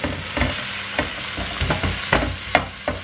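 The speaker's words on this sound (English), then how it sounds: "let me give this a stir" Food sizzles loudly in a busy frying pan while a spoon scrapes and stirs it in a run of uneven, knocking strokes, with no talking.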